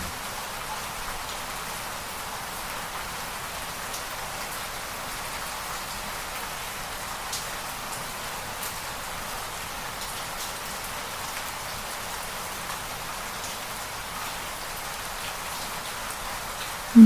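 Steady rain falls without pause on a forest setting, an even, dense hiss at moderate level with no voices.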